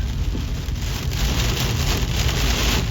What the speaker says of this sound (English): a lot of times the very back edge is the heaviest rain